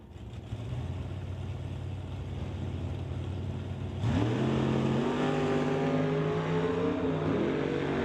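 A drag race car on the racetrack at the NHRA Summit ET Mission Finals idles with a rumbling engine, then launches into a loud, sustained roar that climbs in pitch as it accelerates away.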